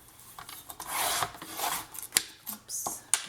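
Scissors or a blade cut a paper strip for scrapbooking, a few close rasping cuts with small snips and clicks, quiet and without talk.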